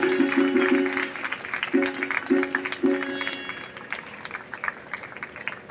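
An audience at a Bhagavat Katha religious discourse in Uttarakhand claps in a steady, fairly loud round of applause, with a few short tonal musical notes sounding early and the clapping thinning toward the end.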